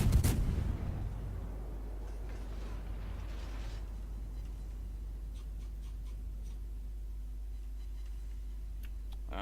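Ship main-battery salvo in World of Warships from the cruiser Worcester: a sharp loud blast at the start, then rumbling decay and a steady low engine drone with scattered faint clicks.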